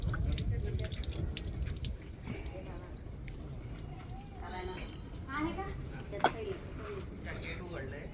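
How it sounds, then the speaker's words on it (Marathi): A tea glass is rinsed under running water at a temple, with steady splashing and dripping from a tap, a sharp clink of glass, and light rain in the background. "ग्लास धुवून घेऊ आता"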